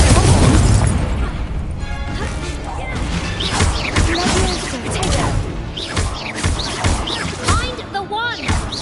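A Confringo fire-blast spell booms and crashes amid the dense, chaotic noise of a Hogwarts Legacy battle, loud and layered with other impacts and voices throughout.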